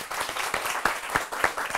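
A comedy show audience claps and applauds for a few seconds, a moderately loud, fairly even burst of hand claps with a few distinct sharper claps.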